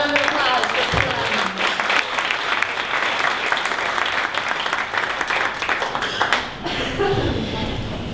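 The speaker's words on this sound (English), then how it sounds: "One more round of applause." A conference audience applauds a presenter with steady, dense clapping that fills the room for the whole stretch, a few louder claps and thumps standing out near the start and tapering slightly at the end.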